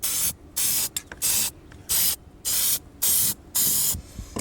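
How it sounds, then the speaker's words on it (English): Spray paint hissing onto hot, fresh welds on a Nissan Altima rust patch, loud and close in six separate bursts of about half a second each, with short pauses between them. "while the welds are still hot, take your paint,"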